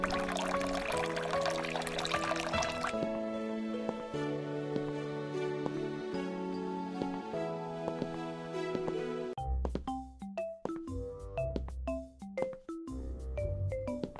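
A peach bath soak is poured in the Hello Kitty Hospital video game: a short splashy liquid pour effect for about three seconds over bright game music, which carries on alone afterward.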